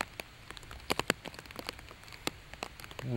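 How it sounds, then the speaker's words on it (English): Rain falls during an outdoor disc golf round near water, a steady background patter broken by scattered sharp drop-like ticks, with a brief low rumble near the end. "Rain falling."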